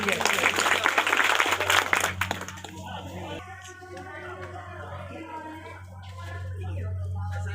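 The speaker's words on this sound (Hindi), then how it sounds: "मैं बराती और शरारती से निवेदन करूंगा कि इन दोनों का तालियों से स्वागत करेंगे।" Wedding guests clap in welcome for a couple of seconds, a dense burst that quickly fades, after which a voice talks over a low steady hum.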